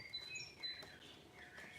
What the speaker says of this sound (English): listen please to the birds